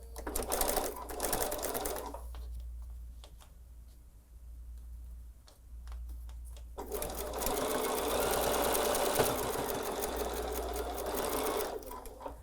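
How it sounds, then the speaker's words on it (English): A sewing machine stitches fabric in two long runs, a fast, even rattle of ticking stitches, loud and close. Between the runs there is a quieter pause with faint clicks and handling sounds. "I'm going to sew on this side this time, just like before"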